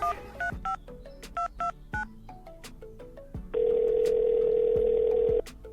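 A phone number is keyed in with a quick irregular series of beeping touch tones, followed by a steady ringback tone held for about two seconds, close and clear.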